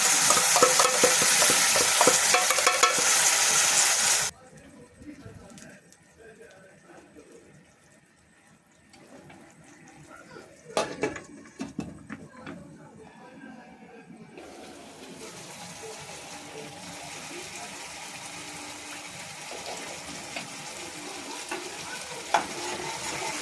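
Tomatoes frying in a pan for banana kofta masala: a loud sizzle fills the first few seconds, then drops to quiet stirring and faint clinks before a steady, softer frying hiss returns and holds to the end.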